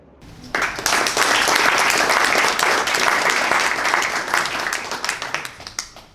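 A crowd at a graduate management awards ceremony applauds steadily for several seconds, dense sustained clapping that swells in quickly and begins thinning toward the end.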